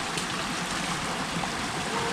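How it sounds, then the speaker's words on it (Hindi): Rushing water from Kumbhpani waterfall in Gariyaband forest, a steady broadband roar of falling water that stays constant and close throughout, with no clear speech over it. "आप मन ला वाटरफॉल के ज़्यादा आवाज़ आवत हो ही।"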